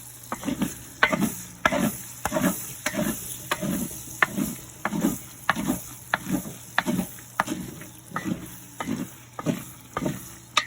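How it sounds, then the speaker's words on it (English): A spoon stirs jambalaya in a pot in a steady rhythm, about one scraping stroke per second across the bottom, over a soft, continuous sizzle, with no voices. "We're going back to stirring again."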